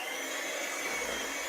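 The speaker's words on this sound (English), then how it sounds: "I'm going to blend for about 1 minute" A kitchen blender whirs steadily for a short stretch, mixing an egg into cheesecake batter, with a constant close motor drone and no voices.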